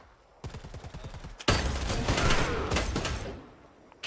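Rapid gunfire rings out in the Predator: Hunting Grounds video game: a fast run of close automatic shots, then a denser, louder fusillade that rattles on for about two seconds before fading.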